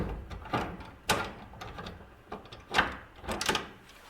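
Door of a 1937 Buick Roadmaster being worked and shut, a series of close metallic clunks and knocks with quieter rattles between them.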